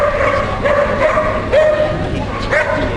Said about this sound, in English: Just had to be careful with the barking, because sometimes you can take the dog's mind off what he was supposed to be doing